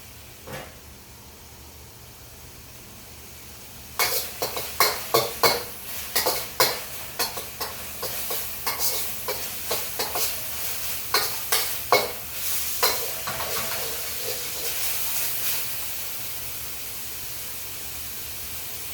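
Egg fried rice with meat and sauce is stir-fried in a pan, a sizzling hiss broken by a rapid series of close scraping and tossing strokes that ease off toward the end.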